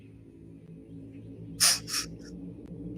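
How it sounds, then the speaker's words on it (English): Two loud, harsh bird calls ring out close together against a low hum, followed by a fainter call shortly after. "birds are freaking out"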